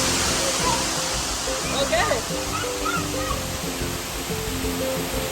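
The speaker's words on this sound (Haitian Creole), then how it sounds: "L'eau a passé en l'air, elle a tombé" A waterfall pours with a dense, continuous rush of falling water, loud and close, while people talk over it throughout.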